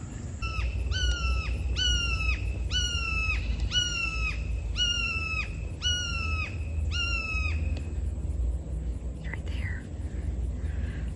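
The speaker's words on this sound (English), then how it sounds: "Red shoulder hawk." A red-shouldered hawk gives a series of seven loud, evenly spaced descending screams over a low rumble of background noise, then falls silent; a voice speaks briefly.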